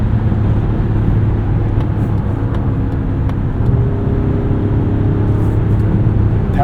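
2025 Mazda CX-70 3.3 Turbo S in sport mode accelerating for a pass, a steady low engine and road rumble heard from inside the cabin, droning evenly throughout without speech.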